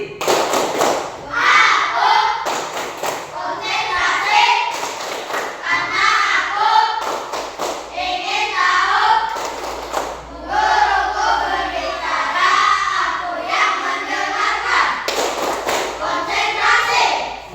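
Children in a coding and AI classroom perform a rhythmic 'concentration' clapping chant, loud and near, with repeated clap bursts and chanted voices in regular phrases across the whole stretch.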